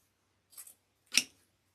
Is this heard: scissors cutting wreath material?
yes